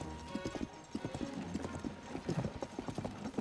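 Hooves of the golden horse in Tears of the Kingdom clip-clop in a quick, steady galloping rhythm, loud and close, with an occasional faint whinny underneath.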